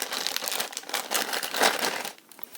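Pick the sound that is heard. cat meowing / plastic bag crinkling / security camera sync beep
plastic bag crinkling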